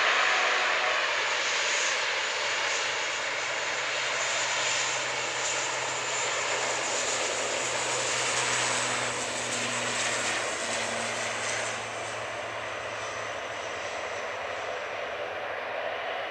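ATR 42 turboprop airliner at Manchester Airport, a steady broad roar with a droning propeller hum that holds at moderate distance and slowly eases off toward the end.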